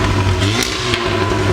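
An Audi S3 sedan with the EA888 engine and a Stone Valvetronic catback exhaust, valves closed, revs loud and close, a steady engine drone with brief throttle blips and no talking.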